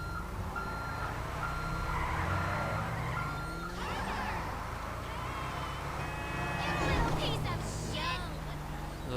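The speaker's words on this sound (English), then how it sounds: "we're just going to reverse her backwards" A truck in GTA 5 Online backs up with intermittent reversing beeps beneath someone talking, over a running engine and passing traffic noise.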